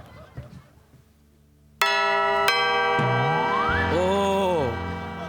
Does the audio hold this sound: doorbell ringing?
yes